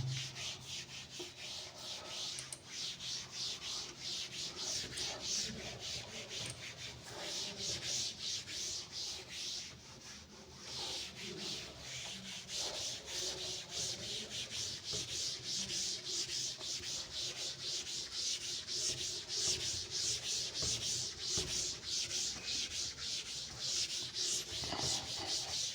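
An eraser rubs steadily across a board during a maths lesson, a continuous scratchy scrubbing that carries on close and fairly loud for the whole stretch with no talking.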